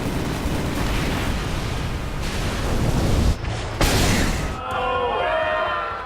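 Rumbling, crackling blasts roar in succession, with sharp cut-offs between bursts, followed by a ringing, whooshing tail.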